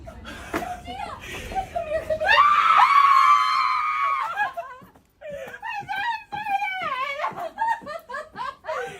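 Excited Taylor Swift fans screaming in a building hallway, a long sustained high-pitched group shriek with wailing and laughter, loud and close, followed by chattering voices and more shrieks.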